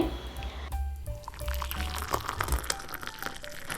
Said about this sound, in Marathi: हा चहा मी कपात ओतून घेते